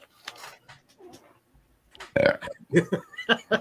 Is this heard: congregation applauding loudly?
no